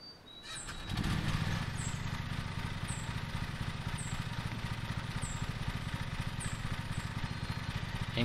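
Lawn mower engine in the Lawn Mowing Simulator video game starts with a brief cranking rise, then settles into a steady, loud running drone, with faint bird chirps in the background.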